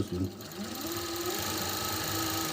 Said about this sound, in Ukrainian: Оверлок дуже тихий.